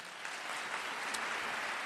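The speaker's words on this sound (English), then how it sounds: "We're gonna give the applause for everyone joining me on Blue Sky right now." Canned applause effect played during a live stream, a steady dense wash of clapping lasting a couple of seconds with no talk over it.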